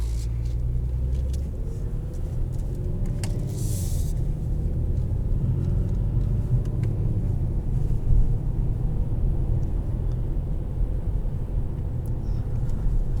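A 2020 Kia Stinger GT1 drives along the road, its steady low engine and road rumble droning continuously from inside the cabin without letting up.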